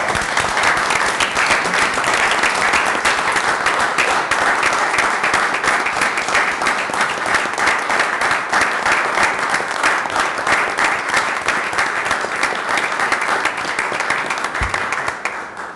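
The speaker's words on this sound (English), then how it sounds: "If we could give them a round of applause." A council meeting audience gives a steady round of applause, dense and even clapping held at a constant level for about fifteen seconds before easing off at the end.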